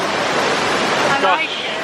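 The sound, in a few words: Rhine Falls waterfall rushing water, Switzerland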